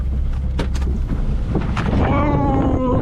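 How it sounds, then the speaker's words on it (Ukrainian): Strong wind buffets the microphone with a continuous roaring rumble during an off-road outing in Zakarpattia, Ukraine, while faint sharper sounds and a thin tone drift through in the background. "Тут уже, звісно, вітряно"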